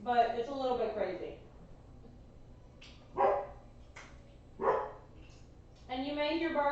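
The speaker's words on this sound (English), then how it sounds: "And you may hear barking." Puppies from a PT-Boat litter, Mouse and Morgan, let out a few short, sharp barks nearby between quiet pauses, with a person talking at the start and end.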